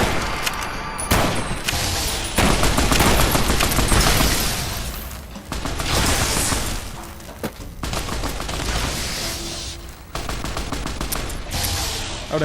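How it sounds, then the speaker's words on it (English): A shoulder-mounted machine gun fires in Fallout New Vegas, Lonesome Road, in loud sustained bursts with heavy booming reports and short pauses between volleys. "Shoulder-mounted machine gun, it looks like."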